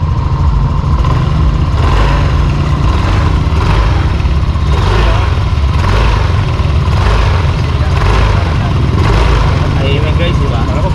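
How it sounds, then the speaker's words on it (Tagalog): A 2026 Yamaha Mio Aerox 155 V3 scooter idles steadily close by, a constant mid-pitched engine drone with a regular throb that runs unbroken for the whole stretch. "Ito yung andaran ng makina niya."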